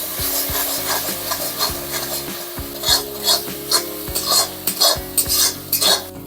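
Chili, coriander and cumin powders frying in a pan while being stirred, with rhythmic scraping and rubbing strokes of a spoon against the pan over a low sizzle, close and fairly loud, no voices.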